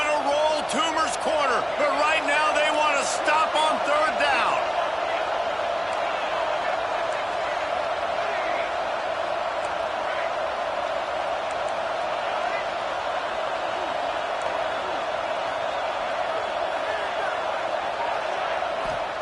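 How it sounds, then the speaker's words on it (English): A football stadium crowd roars steadily on a third down, a dense sustained wall of cheering that stays loud throughout, with a commentator's voice over it at the start. "Oh, this crowd wants it."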